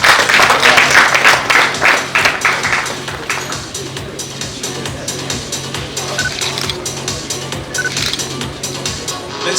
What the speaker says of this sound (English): Give him a big round of applause as he walks up.